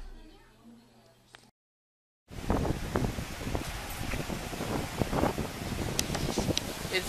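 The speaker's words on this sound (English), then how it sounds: "The breeze actually feels good." Warm breeze gusting across an open beach in Aruba, a steady broadband rush that starts abruptly after a brief quiet pause following some speech, then blows continuously close to the microphone.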